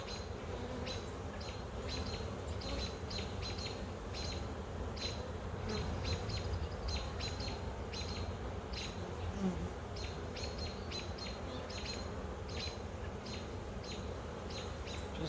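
Honey bees from a queenless split hive drone in a dense, continuous buzz, with individual bees zipping close past in repeated sharp bursts and faint bird chirps in the background.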